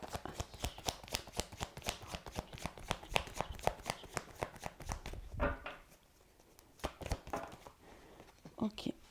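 Tarot cards are shuffled and handled during a love reading, producing a rapid run of crisp riffling flicks, then a pause and a few slower card slaps, with a voice talking over parts of it.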